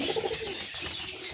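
Pigeons kept in a loft setup give soft, low throaty coos close by, a short rolling call with faint chirps over it.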